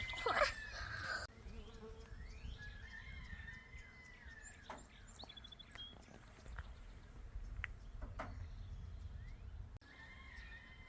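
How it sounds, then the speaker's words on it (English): A honeybee swarm settling in a tree outdoors gives a faint, steady buzzing drone, with bird calls chirping over it and a brief louder rustle at the start. "Okay, so the bees are settling in the tree"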